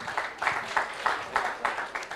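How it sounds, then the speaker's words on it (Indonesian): Rhythmic clapping from a small audience of students, claps falling in a steady beat about every third of a second, moderately loud and close in a room. "Boleh tepuk tangan."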